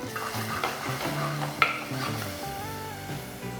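Crushed spice paste sizzles steadily in hot oil while a spoon stirs and scrapes the pan, close and continuous, with one sharp utensil clink, for a Kerala-style prawn curry.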